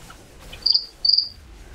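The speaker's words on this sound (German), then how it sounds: "Ah, deine scheiß Grillennerven." Crickets give two short, shrill chirps about half a second apart, loud and close over a quiet background hum.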